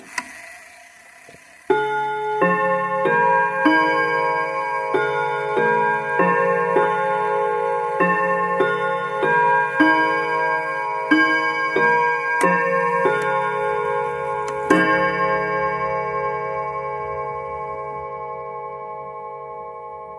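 A chiming clock hour chime played by the ChimeKeeper app on a Mac: a bright melodic sequence of bell tones struck one after another, ringing over each other, then a sustained final chord fading slowly, with no talking.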